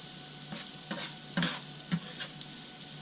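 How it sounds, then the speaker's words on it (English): Onions and peppers sauté in a pan for cheese steak sandwiches, giving a steady soft sizzle broken by several louder scraping stirs at intervals, close up with no talking. "I'm sauteing the onions and the peppers"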